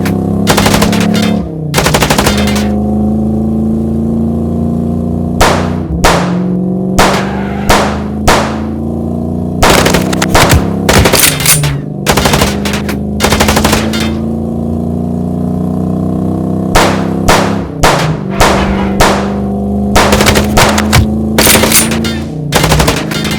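Sustained machine gun fire in the Chicken Police video game, loud rapid bursts repeating almost nonstop over a droning vehicle engine, with no talk.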